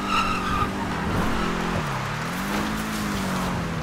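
A car in GTA V drifts, its tires squealing in a steady, loud skid over a running engine drone, with no voices.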